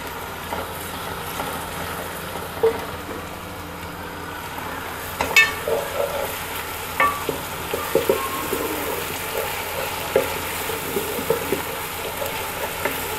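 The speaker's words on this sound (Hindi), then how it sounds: "अब हम इसमें ऐड करेंगे जिंजर गार्लिक पेस्ट, इसको भी हम थोड़ा सा फ्राई करेंगे।" Ginger garlic paste fries in a pan with softened onions for chicken haleem, a soft continuous sizzle with scattered stirring clicks and scrapes, fairly quiet with no talking.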